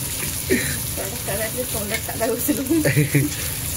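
Prawns fry on a hot tawa with a continuous soft sizzle, while a person talks over it.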